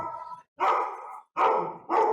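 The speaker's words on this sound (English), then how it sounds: "Excuse the dog." A dog at home barks loudly and close by in four bursts, each a clustered run of barks split by short pauses.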